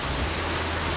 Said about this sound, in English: so we can walk on top of the waterfall